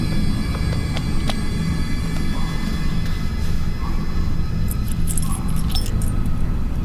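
Keys jangle in a scene from the 2013 film Open Grave, with a few faint metallic clinks early and a brighter cluster of jingling later, all over a steady low background rumble.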